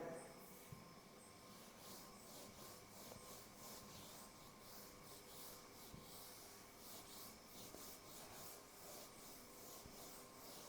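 A steady, continuous scrubbing rub of writing being erased from a board during a Class 10 maths lesson, a rapid back-and-forth rasping texture heard close and fairly quiet, with no talk over it.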